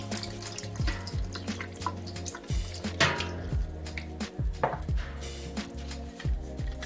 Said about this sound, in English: I add 2 tins of the pineapple juice